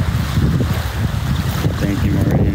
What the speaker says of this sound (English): Sorry, it's really windy, guys.